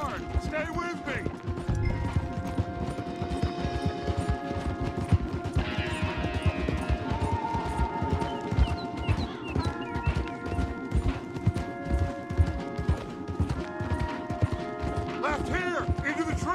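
Several horses gallop hard through the Red Dead Redemption video game world, their hooves pounding in a rapid, close, continuous clatter for the whole stretch, layered over sustained musical tones and occasional creaking tack.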